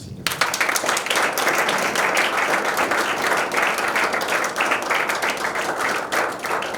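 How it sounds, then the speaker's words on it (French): Sustained applause from a sizable crowd, dense and steady clapping throughout with no voices over it. "Je souhaiterais qu'on applaudisse avec vaillance"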